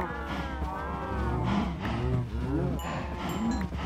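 A blocky Minecraft cow moos repeatedly as it is punched, long low calls following one another in steady succession, loud and close with no talk over them.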